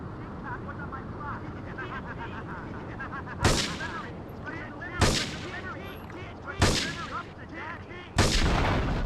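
Sniper rifle shots fired at a van's engine block in Grand Theft Auto III, four loud sharp cracks spaced about a second and a half apart over a low game engine rumble and background sound.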